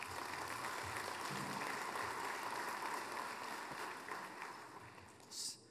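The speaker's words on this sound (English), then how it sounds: "Let's give them a big round of applause." Audience at a business achievement awards gala applauding the finalists, a sustained wash of many people clapping that tapers off toward the end, with some faint murmuring beneath.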